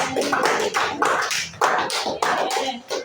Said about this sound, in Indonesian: Tepuk tangan untuk Pak Maman